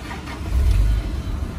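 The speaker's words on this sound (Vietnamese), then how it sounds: "Máy nổ thì êm như du ngủ các bác nhé" A Toyota Land Cruiser with a manual gearbox and a 4.5-litre engine idles steadily up close, a low smooth rumble that swells slightly midway with no voices over it.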